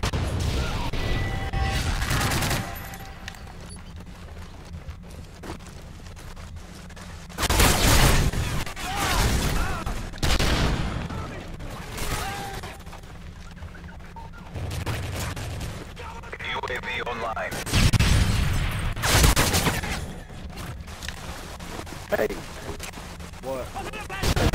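In a shooter video game, loud flashbang blasts and bursts of gunfire erupt in several heavy clusters, separated by quieter stretches, while a voice talks over the action.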